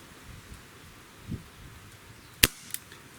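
A Gamo PR-776 air pistol fires one sharp, crisp shot, loud and close, with a faint echo snap just after and a quiet room around it.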